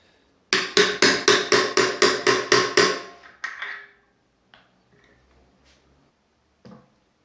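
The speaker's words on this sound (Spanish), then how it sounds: "para meter esto tenemos que usar una herramienta especial que vamos a usar para dar golpes" A special tool is hammered to press BMX headset cups into the frame. Eight sharp, evenly spaced metallic blows come in quick succession, then a couple of softer knocks and scattered faint taps.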